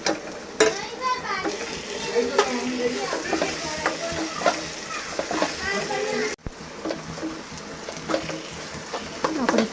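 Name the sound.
stirring bitter gourd curry with masala in a pan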